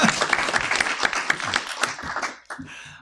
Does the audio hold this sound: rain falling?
no